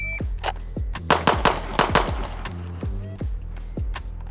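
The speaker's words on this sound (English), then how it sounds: "Good shooting." Rapid pistol fire from Staccato handguns during a timed shooting drill, many sharp shots in quick strings with short pauses between bursts, loud and close.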